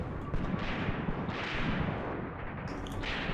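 Machine gun fire from half-tracks in the Graviteam Tactics: Mius Front war game, a continuous crackling rattle of distant gunfire and thudding artillery that keeps steady throughout, with small bursts of louder impacts.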